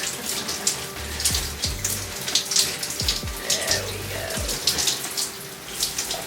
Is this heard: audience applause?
no